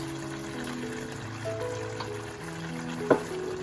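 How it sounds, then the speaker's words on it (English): Steady sizzling and frying in a pan with a soft wet splash near the end as chopped tomatoes go in, close by and moderately loud. "now I'm going to put the chopped tomatoes"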